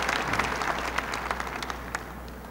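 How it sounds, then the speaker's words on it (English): Audience at a veterans' national convention applauding, a dense steady patter of many hands clapping at moderate distance with no voices over it. "thank you for that warm greeting and that applause"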